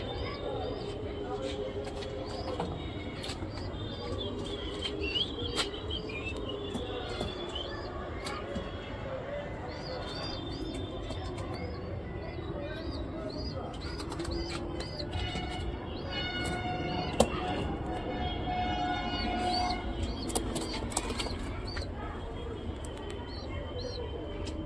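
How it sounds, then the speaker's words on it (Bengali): Giribaj pigeons coo softly at a breeder's home, with brief chirps, occasional wing flutters and faint bumps amid steady background hum and quiet voices. "কত সুন্দর সুন্দর কবুতর আছে"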